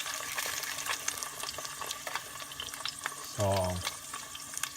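Spamsilog ingredients with bell pepper fry in a pan, a soft steady sizzle with occasional stirring clicks, plus a brief tonal beep partway through; a voice says a single word.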